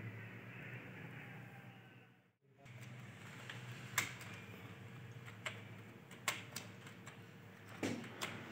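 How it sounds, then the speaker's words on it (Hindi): Scattered, irregular key taps on a computer keyboard, quiet and close, with uneven gaps between strokes over a faint background hum and no talking. "अभी इसके ऊपर टाइपिंग करेंगे"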